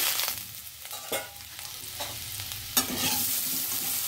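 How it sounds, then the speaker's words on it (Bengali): Small new winter potatoes fry in oil in a pan with a continuous sizzle. Spatula scrapes and stirs at close range come through, including a sharper knock partway through, and no one speaks. "লাল লাল করে আলুগুলো ভেজে নিচ্ছি"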